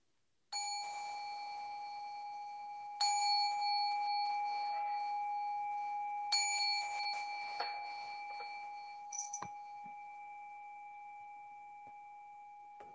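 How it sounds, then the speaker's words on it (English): A meditation bell is struck three times before a Buddhist chant, each clear ringing strike followed by a long sustained tone that slowly fades. The strikes are spaced a few seconds apart in a quiet room, with faint small knocks near the end. "I'll ring the bell three times and then we'll do the chant together"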